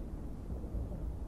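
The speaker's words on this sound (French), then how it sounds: "Ah ouais, il y a une tempête dehors." Thunder rumbles outside during a storm in Amanda the Adventurer, a deep, continuous low roll that holds steady and fairly loud with no voices over it.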